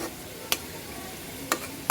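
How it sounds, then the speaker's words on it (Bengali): Fish with a vegetable curry and spice masala sautés in a pan, a soft, even sizzle broken by two distinct spoon clicks against the pan. "এখন মাছগুলো কষবে, সাথে তরকারি তো কষানো হয়েছেই, মশলা কষানো হয়েছে।"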